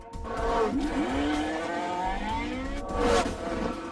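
Porsche 918 Spyder hybrid supercar running loud and close, its engine note rising and falling through gear changes with a rough low rumble and occasional tire noise.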